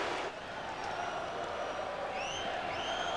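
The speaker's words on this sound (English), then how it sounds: "They stand and applaud Andy Moog's save." A hockey arena crowd stands and applauds a goalie's glove save by Andy Moog in a Canadiens at Bruins NHL game, a steady wash of clapping and crowd noise.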